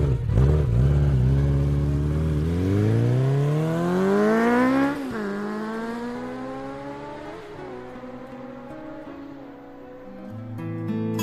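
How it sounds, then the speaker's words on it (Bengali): A motorbike ridden fast, its engine revving up in a long rising whine, dropping as it shifts gear, then climbing again, loud and close. "বাইকটা একটু আস্তে চালা ভাই"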